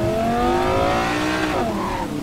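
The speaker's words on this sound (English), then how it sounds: "We just want to hear the beautiful engine of this car." A turbocharged car engine in Cyberpunk 2077 revs loudly and close, its pitch climbing through a long rising sweep, dipping and climbing again, with a squealing racing edge and no talking.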